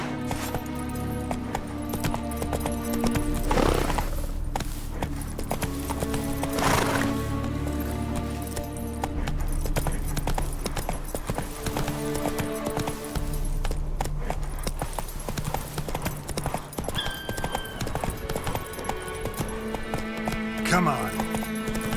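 Roach the horse gallops in The Witcher 3, its rapid hoofbeats pounding steadily over game music and ambience, with occasional snorts and a voice talking at points.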